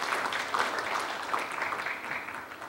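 Audience applause for the President at a Tanzanian sports event, a steady dense clapping from a crowd that holds evenly for the whole stretch without voices standing out.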